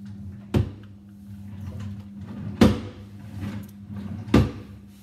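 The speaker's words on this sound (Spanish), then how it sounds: "De repente se escuchó la puerta." A door opening or closing indoors, three sharp knocking thuds spaced about two seconds apart over a low steady hum, fairly close and without speech.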